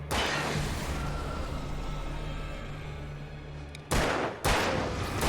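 Dense, continuous video game gunfire from Alan Wake pours out loudly in a sustained roar of rapid shots, broken by a couple of heavier blasts near the end.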